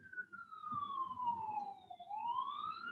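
Ambulance sirens pass outside during a church service, a sweeping wail that falls and then rises again, steady and moderately distant, heard through the walls with no talking.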